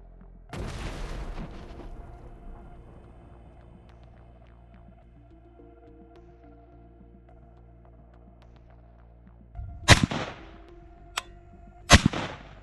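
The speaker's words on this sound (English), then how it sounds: "Russian infantry throws explosives at the bunker of the Ukrainian armed forces and destroys the position." Explosive charges thrown by infantry at a frontline trench bunker burst with a heavy blast early on, then two sharp, loud detonations close together near the end, with low rumbling hum between them.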